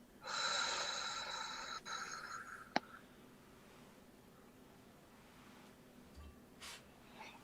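A slow, breathy exhale through pursed lips during a breathing exercise, a soft hissing rush lasting about two seconds before quiet, followed by faint rustles and small clicks.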